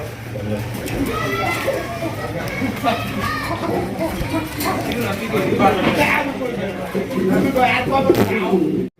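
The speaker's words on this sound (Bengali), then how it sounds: "এখানে রয়েছে আরো একজোড়া লাহোরি কবুতর দেখতেই পাচ্ছেন" Lahori pigeons, a large blue pair of a fancy breed, coo and murmur close by in a busy bird market setting, their low rhythmic calls running steadily under overlapping chatter and someone talking.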